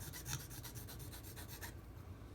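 Rhythmic rasping strokes of a file on a plastic part from a Tamiya 1/35 M21 half-track model kit, about ten steady back-and-forth passes, close and fairly loud, then stopping near the end.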